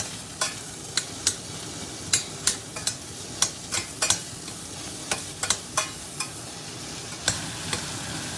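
White onions cooking in a pan for a goat stew, a low steady sizzle broken by about twenty sharp scrapes and clicks of a utensil against the pan, close and without speech.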